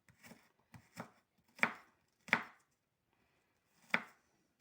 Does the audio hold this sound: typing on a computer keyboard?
no